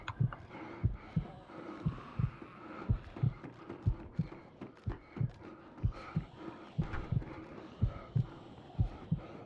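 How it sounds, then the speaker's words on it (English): Heartbeat effect in the DayZ video game, a steady, fairly quick double-thump pulse repeating throughout, faint and low, over a soft ambient hum. "So my heartbeat's gone up"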